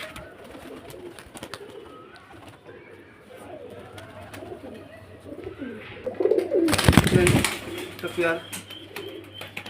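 Pigeons coo softly and repeatedly at a bird market, their low throaty calls heard near and in the background under people talking, with a loud rustling burst of wings toward the end.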